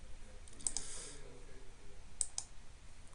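A few crisp computer mouse clicks, two close pairs spaced apart, fairly faint over a low room hum while configuring network software on a PC.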